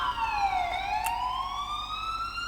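An ambulance siren wailing in the street, a single sweeping tone falling then rising, loud and fairly close over low traffic rumble, no talk.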